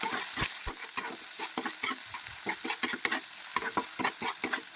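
Chopped onions frying in a pan, a steady bright sizzle broken by repeated scraping strokes of a spatula stirring them, close and clear with no talk.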